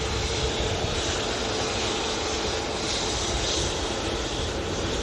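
A Ryanair jet taxiing at Manchester Airport gives off a steady, close engine roar and broad rushing hiss that holds evenly throughout with no breaks or talk.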